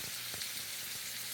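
Food with lime rind sizzles in a hot pan, a soft, continuous frying hiss with a few faint low bumps, quiet and close with no talking.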